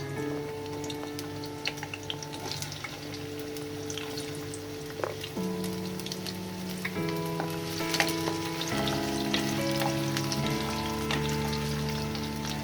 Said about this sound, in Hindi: अब इसको सॉफ्ट होने तक फ्राई करते हैं